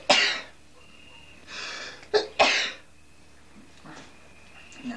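A person sneezes and coughs indoors in a short burst of loud, close expulsions, one at the start and a quick pair in the middle, then quiet with faint background noise.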